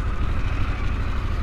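A 2022 Harley Davidson Pan America 1250 Special motorcycle engine running steadily just after a one-push start, a close, loud, even rumble with no talk over it.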